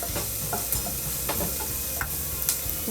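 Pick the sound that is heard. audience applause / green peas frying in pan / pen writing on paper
green peas frying in pan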